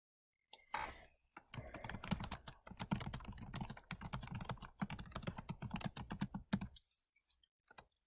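Rapid typing on a computer keyboard, close and clear, with a steady run of crisp key clicks and a few short pauses, alone and without any talk.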